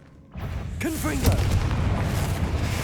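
A Confringo fire spell explodes in Hogwarts Legacy, a sudden booming blast with a rising whistling streak and a rumbling roar that lingers at close range.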